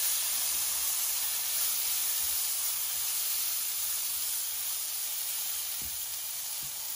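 Karonda berries sauté in a pan for a sweet aloe vera chutney, giving a steady hissing sizzle with a couple of soft knocks near the end.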